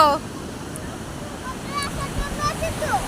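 Sea waves wash onto the seashore under a steady rush of wind buffeting the microphone, with faint voices in the distance.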